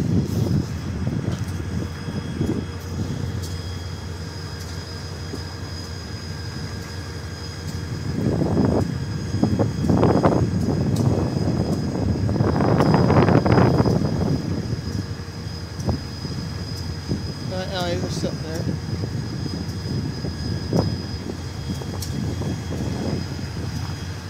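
A CSX 6400 diesel locomotive engine runs with a steady low rumble at a stop in Effingham, Illinois, swelling louder in the middle and then easing back, with a high steady tone above the idle.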